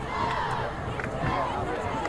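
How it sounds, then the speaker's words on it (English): Crowd at an afternoon high school football game in Wilkes-Barre, Pennsylvania, a steady distant roar and murmur of spectators filling the stands. "been an enthusiastic crowd this afternoon"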